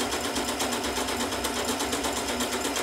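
A sewing machine fitted with a fringe foot runs continuously, close and steady, with a fast, even rhythmic stitching chatter and no speech.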